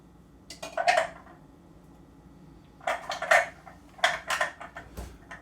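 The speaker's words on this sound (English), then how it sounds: "This is my Ninja food processor, whereas this is the Ninja blender, and it has its own little set of blades." Plastic and metal parts of a Ninja food processor and blender blade set being handled, with three separate clusters of clicking and clinking separated by quiet pauses, close by and alone.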